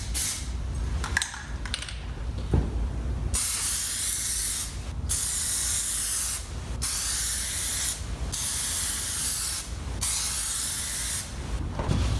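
An aerosol can of Plasti Dip sprays onto a 2017 Ford Raptor in long, steady, loud hissing passes separated by short pauses, close to the nozzle.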